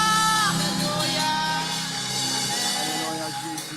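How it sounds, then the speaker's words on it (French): A church congregation at a Sunday service shouts and cheers for joy, a dense, loud wash of voices and whoops filling the room, with louder peaks at the start that ease off slightly toward the end. "Est-ce qu'on peut encore pousser le cri de joie, acclamer très fort pour le Seigneur?"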